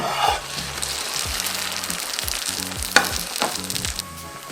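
Loud, steady sizzle of a glass-noodle and egg pancake frying in oil, with a sharp tap partway through and a low hum underneath.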